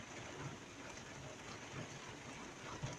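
Steady rain falls across a vehicle or surface in a close, even hiss, with faint low pattering and no voices.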